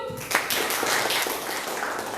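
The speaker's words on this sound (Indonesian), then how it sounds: "tepuk tangan dong buat Gun." Indonesian classroom students clapping for a classmate after an answer, a brief burst of dense clapping heard close and fairly even throughout.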